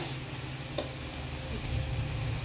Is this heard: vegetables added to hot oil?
yes